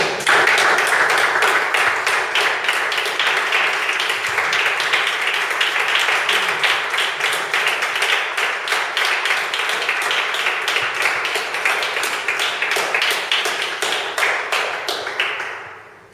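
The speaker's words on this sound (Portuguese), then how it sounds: "Posso abrir uma salva de palmas do Senhor?" Church congregation applauding together, a dense steady clatter of many hands clapping that fills the space for about fifteen seconds before fading out at the end.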